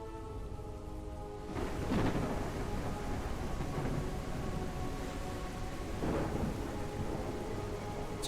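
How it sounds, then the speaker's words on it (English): Rain pours steadily with rolling thunder in a video game near the water's surface, a dense hiss of rainfall with low rumbling swells, alone and fairly distant. "if you're closer to the water surface, you'll hear the rain and thunder just a little bit"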